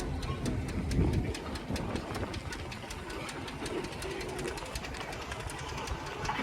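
A steam roller engine at a steam parade chuffs and knocks in a steady rhythm nearby, with a continuous mechanical rumble and no talking.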